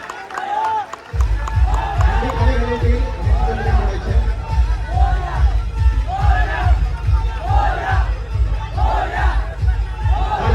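Large outdoor crowd at a Dahi Handi festival in Saswad, with Govinda teams, roars and cheers in repeated swelling waves over a steady low rumbling din, loud and close, with voices shouting throughout.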